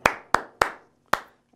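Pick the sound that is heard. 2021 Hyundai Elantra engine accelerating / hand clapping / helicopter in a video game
hand clapping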